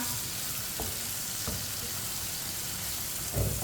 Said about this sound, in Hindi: हम मसाले डाल के हम इसे 2 मिनट के लिए पका लेंगे। चूल्हे की आंच को मैंने कम रखा है